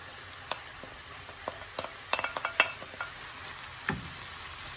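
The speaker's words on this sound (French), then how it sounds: "Je viens rajouter ma viande hachée." Minced meat hits a hot pan and is stirred, giving a soft sizzle with scattered scraping and tapping of a utensil, faint and irregular, with no voices.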